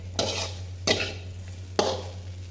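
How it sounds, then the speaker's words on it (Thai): A spatula scrapes and tosses Chinese sausage fried rice in a pan three times, each stroke a sharp scrape followed by a short sizzle, close and clear over a steady low hum. "คนให้เข้ากัน"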